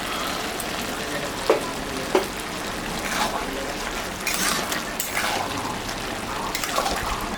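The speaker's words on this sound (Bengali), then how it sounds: "চিংড়ি মাছটা দিয়ে দিলাম।" Prawns drop into a pan with softened bottle gourd and start to fry, making a bright, hissing sizzle that rises and falls, with a few sharp knocks early on.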